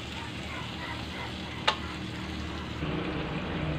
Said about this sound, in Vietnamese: Khi nước sốt của mình nó sôi lên như thế này nè